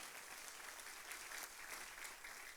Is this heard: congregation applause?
yes